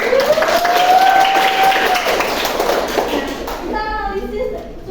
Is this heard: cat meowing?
no